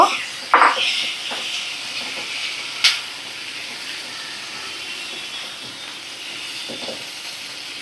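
Bele fish, coated in salt and turmeric, frying with a small tomato in a pan over a gas flame: a steady broad sizzle, close and fairly loud, with a couple of sharp clinks near the start.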